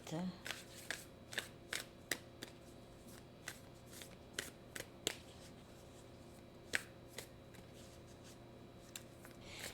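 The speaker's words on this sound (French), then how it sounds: "on va aller chercher quelques cartes oracles" Oracle cards are handled and shuffled close by, giving a series of sharp, irregular snaps and flicks over a faint background hum.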